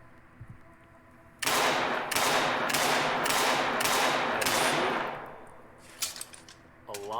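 In the game Angels Fall First, the cheapest sidearm fires a rapid string of about six loud, close reports at a steady rhythm, each ringing out into the next, followed by a few quieter clicks and clatters.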